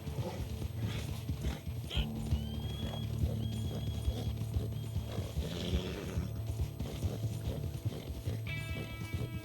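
A video game horse trots with steady clip-clop hoofbeats over a constant game ambience and music, with a short neigh partway through, the hooves loud and close throughout.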